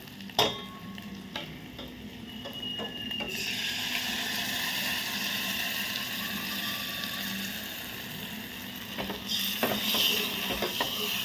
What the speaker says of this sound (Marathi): आता ही डाळ आपण या वांग्यामध्ये म्हणजे फोडणीमध्ये मिक्स करून घेऊया चांगली